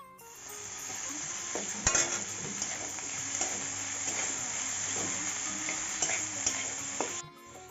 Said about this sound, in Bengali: এবার টমেটো কুচি দিয়ে ভালো করে কষিয়ে নেব